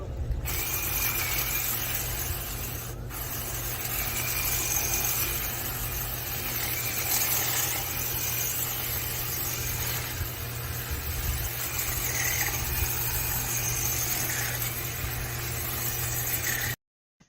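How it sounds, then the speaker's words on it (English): A Black & Decker 22-inch battery hedge trimmer cuts through a tree with a continuous buzzing whir and a thin high squeal. It runs steadily at moderate level for about seventeen seconds, then cuts off abruptly. "knocking out some of it with my Black & Decker hedge trimmer"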